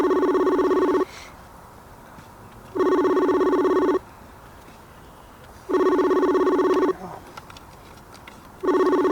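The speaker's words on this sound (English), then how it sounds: "Aaron Reichart, let's give him a call" Telephone ringback on an outgoing call: three full ring bursts, each lasting about a second, with steady gaps between them and a fourth ring starting at the end, loud and clear with no speech.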